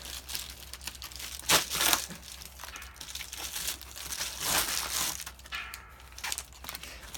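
A plastic bag holding LED license plate bulbs is unwrapped up close, with irregular bursts of loud crinkling and crackling that rise and fade over several seconds, and no voices.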